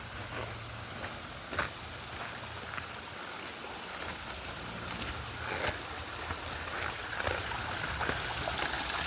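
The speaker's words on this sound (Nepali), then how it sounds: "पानी चाहिँ यहाँबाट जान्छ हाम्रो," Water flows along a stream channel beside a slippery hillside path, a steady close rushing and trickling with a few brief splashes.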